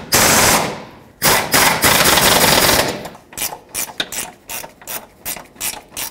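A ratchet tightens rear engine mount bolts on a 2003-2008 Toyota Corolla, starting with long whirring spins, then rhythmic repeated clicking strokes, loud and close with no talking.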